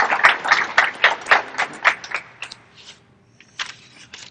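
A few people clap for Charlie at a Fleet Week 2017 gathering, a short run of distinct, fairly close claps that slows and thins into scattered final claps.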